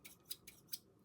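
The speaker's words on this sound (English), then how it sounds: "these scissors were from Target" Scissors bought from Target snip close and crisp, four quick sharp cuts spaced evenly over about a second with no talking.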